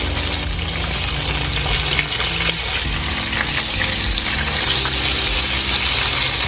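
Parmesan-crusted chicken sizzles and fries steadily in a pan after being flipped, a loud continuous crackle of hot oil with no talking.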